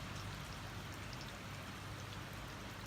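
Rainwater hisses on a wet road in a steady, dense wash of patter, faint and continuous, with no distinct car pass standing out.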